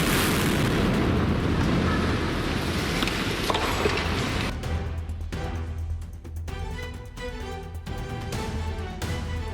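A controlled demolition by German engineers brings down an old structure built in 1984. A loud, sustained roar of explosive blasts and collapse fills the first half, then gives way to rumbling debris and scattered crashes.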